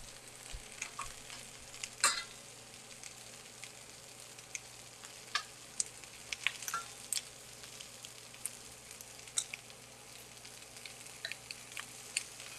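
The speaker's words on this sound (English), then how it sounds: "We're just looking for a really nice sear on our cauliflower." Cauliflower sears in a hot pan with a steady, soft sizzle and small scattered pops and crackles throughout.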